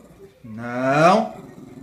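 A pet dog, squabbling with its owner, lets out one short, close, loud growl that rises in pitch and swells before trailing off, like a grumbling complaint.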